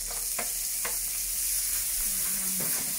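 Garlic sautéed in hot oil for a fish stew gives a steady, fairly quiet hiss, broken by a few sharp clicks and scrapes of a utensil stirring in the pan.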